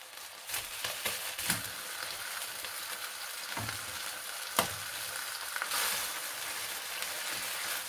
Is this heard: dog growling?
no